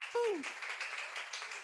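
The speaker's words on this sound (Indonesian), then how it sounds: "tepuk tangan lagi." An audience at a Christmas church service claps in a soft, diffuse patter that carries on after a brief spoken voice at the start.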